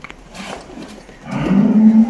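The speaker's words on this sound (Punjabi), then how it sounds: "ਤੁਸੀਂ ਉਹ ਝੋਟੀ ਦੇਖ ਸਕਦੇ ਹੋ।" A young female buffalo on a farm gives a single low moo that builds from a quiet start into a loud, sustained call lasting about a second, with no talk around it.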